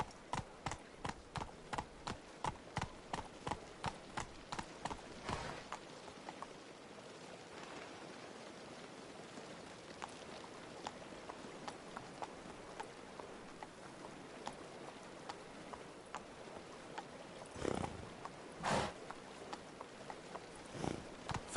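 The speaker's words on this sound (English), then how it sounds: "Come on, Roach." Hoofbeats of the horse Roach galloping in The Witcher video game, a fast steady clip-clop rhythm that is loud at first, drops to faint, distant beats, then returns with a couple of sharp louder thuds near the end.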